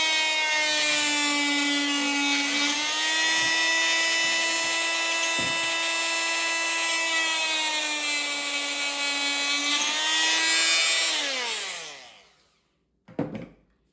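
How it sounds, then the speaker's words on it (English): A loud, high-pitched buzzing whine from an oscillating multi-tool cutting wood, held steadily for about twelve seconds before winding down, then a brief clunk. "I usually use my vibrating tool to finish these, run them down"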